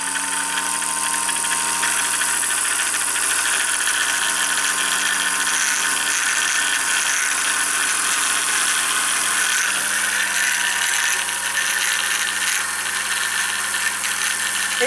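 A Singer 201-1 sewing machine winds a bobbin with a steady, continuous motor whir and faint squeal, close and loud, running evenly throughout with no talking.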